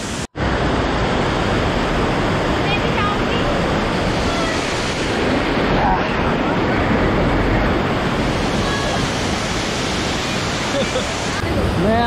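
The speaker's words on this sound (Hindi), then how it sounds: "ये रोहिणी वाटरफॉल है भाई, पहला व्यू पॉइंट जो आता है यहाँ से" Rohini waterfall near Darjeeling in West Bengal roars loudly and continuously at close range, its broad rushing noise mixed with wind buffeting the microphone.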